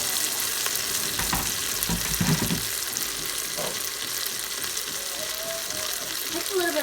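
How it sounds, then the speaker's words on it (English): Water poured into a pan of sautéed onion, tomato, ginger and garlic paste for an Instant Pot veg pulao, giving a steady sizzle and hiss with a few bubbling pops throughout. "So now we're going to add a bit of water."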